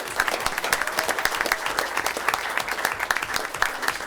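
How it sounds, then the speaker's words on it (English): An audience at a school board of education meeting applauding, dense steady clapping from many hands that holds evenly throughout, fairly close, with no talk over it. "We give them a round of applause."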